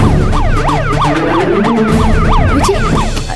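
An ambulance siren wails in a rapid repeating up-down pattern, loud and close, over low traffic rumble.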